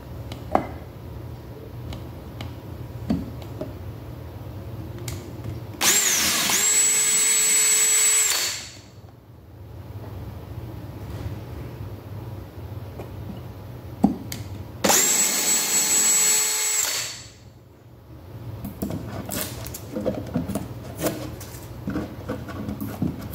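A cordless power drill drives screws into a DIY cabinet slide-out pot rack in two loud whirring bursts of a few seconds each, the motor pitch rising and falling, with quieter handling noise between them.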